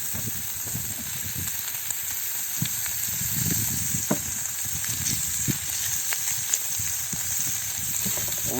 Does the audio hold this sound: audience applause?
no